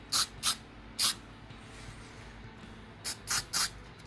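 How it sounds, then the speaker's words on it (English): Matte spray is misted onto a model railroad tree in short, crisp hissing bursts: two quick puffs, a single one, a long pause, then three more in quick succession, close and alone in a quiet room. "I just wanted to remind you to spray the tree with this mat spray."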